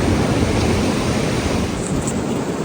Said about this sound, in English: Alright, the wind is going.